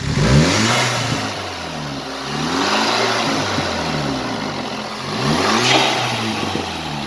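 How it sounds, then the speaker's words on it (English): A VW GTI engine, running again after a faulty fuel injector was replaced and carbon cleaned, revs repeatedly in loud, close rising and falling sweeps, with turbo whoosh and a hissing blow-off as each rev drops. "rev it, Makhi, you can hear more of the turbo now, more of the blow off noise now"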